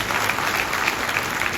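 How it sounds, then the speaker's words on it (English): Steady applause from an audience at a political gathering in honour of Ghana's president, continuous and fairly loud, with no voices standing out. "Let's give His Excellency John Dramani Mahama a round of applause"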